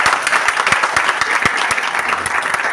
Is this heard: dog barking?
no